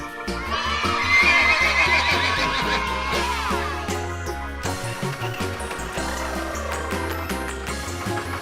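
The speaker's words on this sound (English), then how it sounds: "horse." A horse whinnies with a descending neigh in a children's animal-sounds game, set over steady background music with rhythmic beats throughout.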